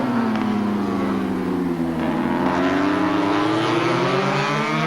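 Racing motorcycle engines at a 1984 Swan series race scream loudly and continuously at high revs, several bikes overlapping with rising and falling pitch as they pass close by.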